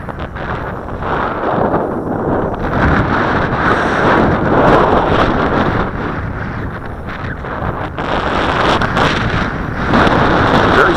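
Strong gusting wind of about 15 knots roars steadily across the microphone while a Hubsan H111 nano quadcopter is flown outdoors, a loud, continuous rushing buffet with no voices.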